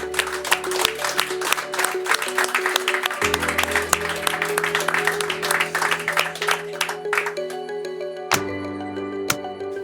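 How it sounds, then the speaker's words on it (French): Audience applause closes a quarterly staff meeting on visual management at an EDF site, a steady wash of many hands clapping together for several seconds with a faint hum underneath. "on peut se faire un petit clap de fin quand même et puis de s'applaudir"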